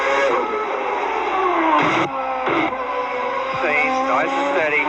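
A CART race car engine drones steadily at high pitch, with brief shifts in tone as it passes, while a commentator talks over it.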